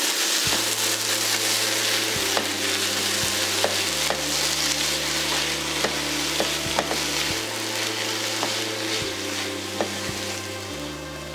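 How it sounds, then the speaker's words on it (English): Vegetables cook down in a pan with a steady, loud sizzle and frying crackle, while a spoon scrapes and stirs in irregular strokes over a constant low hum throughout. "now I'm going to kind of stir it together and let it cook down a bit"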